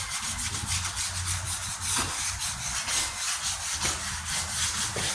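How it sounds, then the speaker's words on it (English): Light hand sanding with 1000-grit paper on a 1998 Ford Ranger tailgate under rust repair, a close, steady rasp in even back-and-forth strokes, about one per second, with no voices. "So I'm just using a light 1000 grit here."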